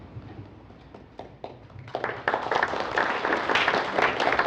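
An audience at a ward councilor candidate forum claps. Sparse, separate claps at first build into dense, loud applause from a room full of people.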